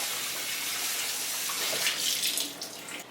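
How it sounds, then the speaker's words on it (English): Canned kidney beans are rinsed under a running kitchen tap, a steady close hiss of water with light splashing and shifting spatter toward the end, no voices. "And just run them in water just to get those, I call it the gunk out."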